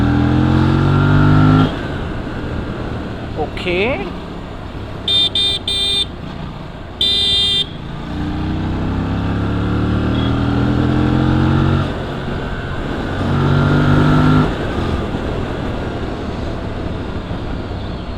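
An Aprilia RS 457 parallel-twin sport motorcycle revs close by with a throaty engine and exhaust note that rises and falls over several throttle blips, while a few short beeping tones sound partway through.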